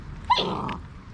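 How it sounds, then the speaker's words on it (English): Puppies growling over their food, a short, close growl with a sharp yip near the start, set against quiet room background. "That's those two over there growling"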